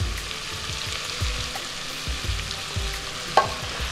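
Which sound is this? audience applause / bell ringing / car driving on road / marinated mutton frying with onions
marinated mutton frying with onions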